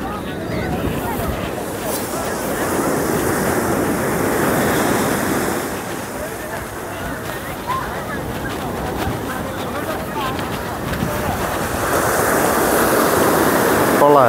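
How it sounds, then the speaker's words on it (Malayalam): Ocean surf rolling onto Alappuzha beach at sunset, a steady broad wash of breaking waves with wind noise on the microphone, swelling louder near the end, while people talk nearby. "ഈ അത്തിര കയറി വരുന്നുണ്ട്"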